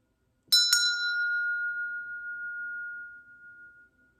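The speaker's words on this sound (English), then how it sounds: "let me ring the heart chakra bell for you all" A heart chakra bell is struck twice in quick succession, then one clear ringing tone sustains and slowly fades over several seconds in a quiet room.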